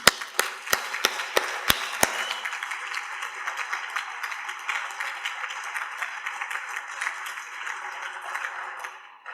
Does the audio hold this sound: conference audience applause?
yes